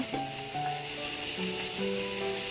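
Green onion, onion and garlic stir-frying in oil in a pan for a chili seasoning paste: a steady close sizzle with a faint tonal ring on top, all within a couple of seconds, with no talk.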